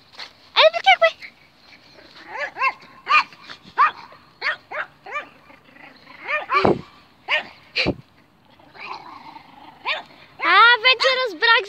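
Several dogs bark and yelp in bursts out on a grassy meadow, some near and some farther off, with short gaps between the bouts.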